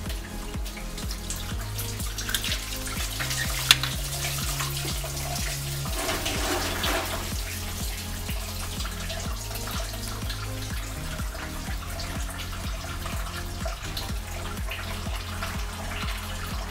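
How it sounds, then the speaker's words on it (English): Engine coolant pours out of a car's thermostat housing into a large drip pan below, a steady splashing, trickling flow that stays fairly loud and close throughout, with no talk. "Just be careful because coolant is going to flow out of it"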